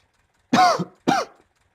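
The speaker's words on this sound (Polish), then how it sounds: "O kurde, kaszel." Two short, close, dry coughs come from someone spreading lime on a field with an old tractor, the first slightly longer than the second, with a brief pause between them and quiet surroundings otherwise.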